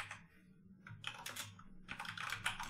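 Quick, uneven bursts of typing on a computer keyboard while Python code is written, close and fairly quiet, with short pauses between runs of keystrokes and no voices.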